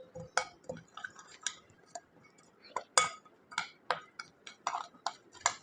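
A spoon clinking against a pot while ginger garlic paste is stirred into chicken curry: irregular sharp metallic taps and scrapes, fairly close and moderately loud, with no talk.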